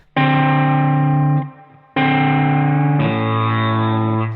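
Distorted electric guitar notes ring out and bend upward a half step in pitch in a blues phrase, two sustained phrases separated by a brief pause.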